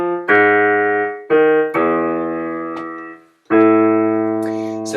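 Pipe organ playing a Bach chorale prelude, sustained chords shifting in several long held blocks as the pedal line falls through consecutive descending sevenths, loud and resonant, each chord fading before the next.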